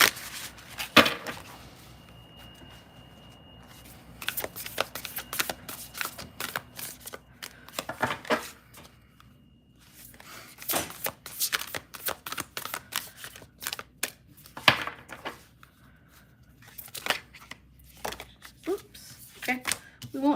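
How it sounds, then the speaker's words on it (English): Tarot cards being shuffled in several quick riffling bursts separated by pauses, close up, with a person talking between them. "One more shuffle."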